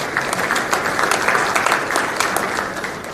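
An audience at the Lone Star Conference baseball championship banquet claps steadily for the All-Defensive team, a dense, even wash of many hands that stays loud throughout.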